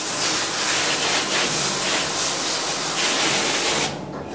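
Water spray rinses degreaser off a screen-printing screen with a loud, steady, close hiss that holds for several seconds before dropping off near the end.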